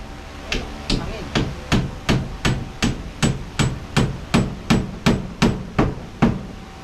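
A hammer strikes hard material about fifteen times in a steady, even rhythm during kitchen construction work, each blow sharp and close with a short ringing decay, and faint voices sit underneath.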